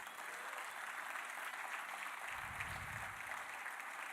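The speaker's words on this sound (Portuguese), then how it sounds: "Aplauda o Senhor por isso, meus queridos" Congregation applause at a Portuguese-language church service, a steady, fairly quiet wash of clapping from a crowd that carries on evenly throughout, with a brief low rumble partway through.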